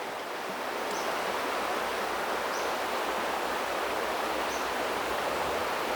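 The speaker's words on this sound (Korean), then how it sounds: "물소리를 하염없이 듣고 있으면" Forest stream flowing steadily past autumn trees, with fallen leaves carried along the current; a continuous, even rush of water close by, with faint bird chirps now and then above it.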